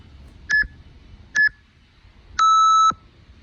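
A digital workout interval timer gives two short electronic beeps about a second apart, then one longer, higher beep marking the start, clear and close in a quiet room.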